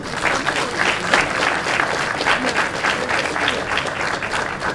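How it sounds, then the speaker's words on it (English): A crowd at the launch of a job training center claps steadily, a dense even wash of applause with no breaks, fairly close and moderately loud. "let's give them a round of applause"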